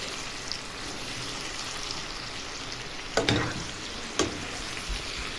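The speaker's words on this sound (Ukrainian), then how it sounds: "Готую зажарку з почеревини, з цибулею на вареники" Pork belly and chopped onion frying in a pan for a dumpling topping: a steady close sizzle throughout, with two or three brief louder spatters or stirring knocks near the end, no talking.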